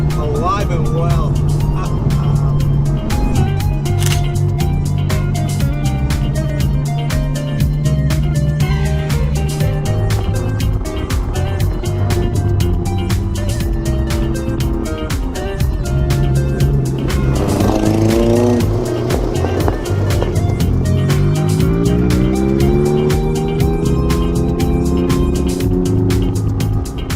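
Porsche sports car engines, including a modified Porsche 914, roar loudly and continuously, revving up and down as the cars accelerate past, with a brief squeal midway.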